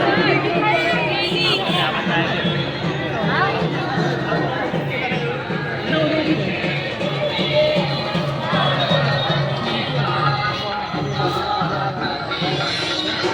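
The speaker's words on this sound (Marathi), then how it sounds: "गर्दी आता हळूहळू वाढायला लागली." A dense crowd at the Nizampur village fair in Mangaon, Raigad, a loud continuous babble of many voices close around, with nearer speakers standing out.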